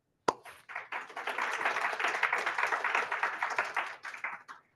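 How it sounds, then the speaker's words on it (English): A round of applause at an online Hacknight meetup: one sharp hit, then about four seconds of quick, evenly paced clapping from a few people nearby, stopping abruptly. "Please give her a round of applause"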